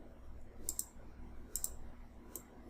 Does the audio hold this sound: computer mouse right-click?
yes